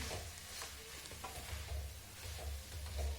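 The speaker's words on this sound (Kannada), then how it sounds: "ಈಗ ನಾನು ಒಂದು ಬೌಲ್ನಷ್ಟು ಕಾಯಿ ತುರಿ ತೊಗೊಂಡಿದ್ದೆ ಅದನ್ನು ಹಾಕಿ ಮಿಕ್ಸ್ ಮಾಡ್ಕೊಳ್ತಿದ್ದೀನಿ" Grated coconut gets stirred into drumstick leaves and moong dal in a pan, soft scraping stirs over a quiet sizzle, close and faint with irregular strokes, no voices.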